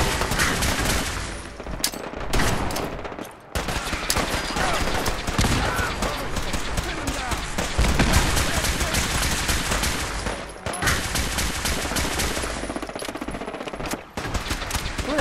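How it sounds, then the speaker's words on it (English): Turret gunfire in Fallout 4: dense, loud rapid-fire bursts that rattle almost without pause, broken by a few short gaps, with explosions mixed into the barrage. "Who the heck is shooting over here?"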